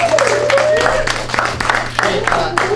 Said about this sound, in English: So let's give Chris a big round of applause and Blue and Zoe as they come up.